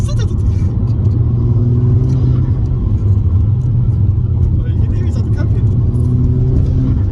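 An Audi S3 engine with an aftermarket Ramair air intake drones steadily from inside the cabin, a loud low rumble with faint chirpy intake noises layered over it.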